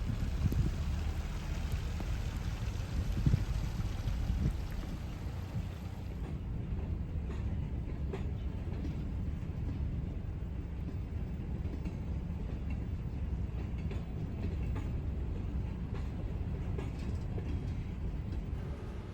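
Freight train slowly shoving a long string of empty covered hoppers into sidings, a steady low rumble and rolling rattle of railcars heard at a distance, continuous and unbroken throughout with no voices.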